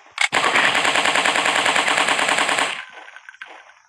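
Rapid automatic gunfire in a dinosaur hunting simulator game on Android, a loud, sustained burst of evenly spaced shots lasting a couple of seconds after one sharp opening shot, then fading out.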